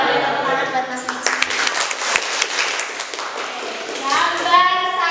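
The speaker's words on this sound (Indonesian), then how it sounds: "Boleh tepuk tangan buat Mas Mici" Students in a school classroom give a short round of applause, a few seconds of brisk clapping, while children's voices chatter before and after it.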